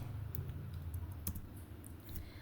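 A computer keyboard clicks as a command is typed at a database prompt, giving irregular, close, fairly quiet keystrokes with a louder cluster midway and no talking.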